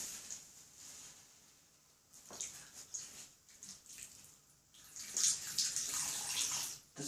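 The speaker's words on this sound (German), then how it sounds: "und um das Feuer zu löschen," Water is poured over a campfire to put it out, producing a faint, hissing splash that rises and falls in waves and then swells louder and fizzier toward the end.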